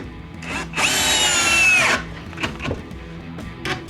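Power drill driving a screw into a stud through slightly warped timber on a wall, a loud steady whine lasting about a second, followed by faint knocks and handling sounds.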